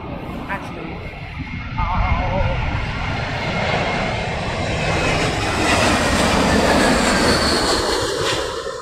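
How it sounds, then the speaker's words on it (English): A Boeing 747 jet comes in to land in stormy crosswind conditions, a loud, rising roar of engines building and swelling as it passes close by, with wind buffeting throughout. "Apparently we have 2 747s inbound."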